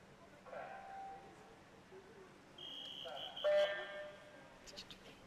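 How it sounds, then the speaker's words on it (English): At a high school varsity boys swimming and diving meet, a starting buzzer sounds as a short electronic tone in an echoing pool hall. Muffled crowd noise and voices carry underneath. "that was the buzzer"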